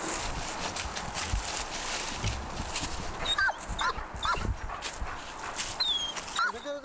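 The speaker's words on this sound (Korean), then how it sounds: "인명 구조견은 구조 대상을 발견하면 짖기 반응으로 상황을 전달하게 돼 있다" Rescue search dog during search training, barking and whimpering repeatedly amid outdoor noise, with several sharp yelps toward the end and a person's voice speaking over it.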